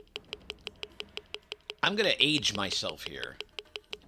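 Rapid, evenly paced ticking clicks of a Mortal Kombat 1 accessibility cue signalling distance from the opponent repeat steadily, briefly masked by a person talking, then resume alone at the same quick rhythm.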